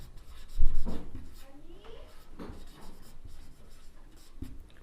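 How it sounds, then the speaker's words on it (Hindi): A definition being handwritten during a Class 11 complex numbers lesson, with short scratchy pen or chalk strokes in uneven bursts, one louder stroke early on, close and clear. "तो इसकी एक डेफिनेशन एक लाइन में लिख रहे हैं हम"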